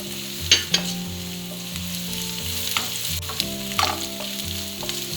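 Onions, curry leaves and Maldive fish chilli fry in hot oil with a steady sizzle and crackle, punctuated by a few spoon scrapes and stirs, close and continuous.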